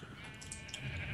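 Sheep bleat in the background of Minecraft, a wavering, nasal cry, fairly faint against a busy, noisy backdrop.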